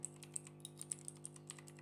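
Light, quick keystrokes on a computer keyboard, a rapid uneven patter of soft clicks over a steady low electrical hum, faint and close.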